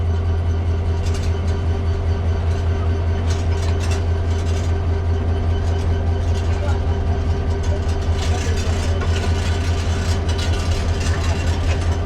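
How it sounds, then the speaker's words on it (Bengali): Mohonganj Express 789 diesel train pulling out of Fatemanagar station after a crossing halt, a steady loud low engine drone with constant rumble and rattling carriage noise throughout. "আবার আমাদের ট্রেন ফাতেমানগর থেকে বের হয়ে যাচ্ছে।"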